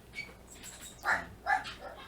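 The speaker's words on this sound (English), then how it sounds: "My dogs are going crazy." Dogs bark indoors in a few short, sharp bursts over a low background, moderately close and not very loud.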